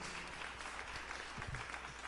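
Applause during an evangelical church service: a steady wash of clapping from a congregation, continuous and moderately loud across the whole short stretch, with no voices standing out.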